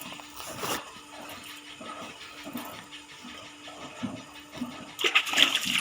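Water splashes and runs as a dairy cow's udder is washed on a farm, a rough, uneven gush with a hissing burst near the end, close by.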